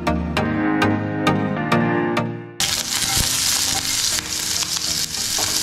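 Sharp taps of a utensil on the pan give way to a loud, steady sizzle as green chili drops into hot oil with popped mustard seeds, frying close by while the cooking for poha goes on.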